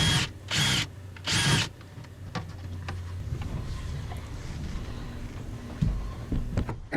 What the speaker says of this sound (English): hold it away from the rivet to drill your next one, so your drill bit doesn't grab and spin the base